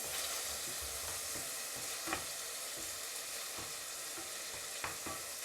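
A steady frying sizzle fills a pot as potatoes and other ingredients for a simple one-pot dinner are stirred, with a few light scraping knocks from the spoon standing out against the constant hiss.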